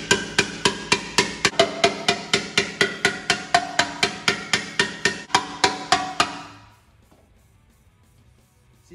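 Metal hammer blows shaping a dished sheet-metal gas tank panel for an Indian Larry style chopper, about twenty-five sharp, evenly spaced strikes ringing close and loud for six seconds before stopping into near silence.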